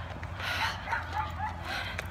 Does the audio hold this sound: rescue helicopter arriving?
no